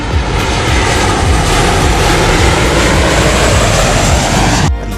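A Tejas fighter jet engine runs at full thrust, a loud continuous roar that holds steady for several seconds and then cuts off abruptly near the end.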